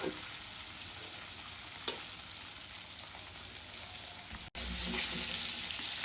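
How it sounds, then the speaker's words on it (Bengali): Small tengra fish fry in hot oil in a pan, a steady crackling sizzle with occasional scrapes and a sharp clatter as the fish are turned. "ট্যাংগর মাছ তো একটা একটা করে ভাজা যায় না,"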